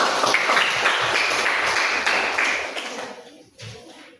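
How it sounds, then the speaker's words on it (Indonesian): A classroom of students claps for their teacher, a dense burst of applause that fades out over the last second, followed by a faint tap. "tepuk tangan buat saya"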